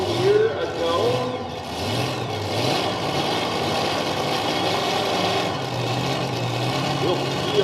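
A pulling tractor at a county fair pull in Monticello, Iowa, its engine droning and surging loudly as it runs down the track, with an announcer talking over it.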